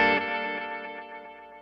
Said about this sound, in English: Let's put some reverb in.